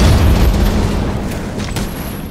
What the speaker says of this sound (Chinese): 然后放炸筒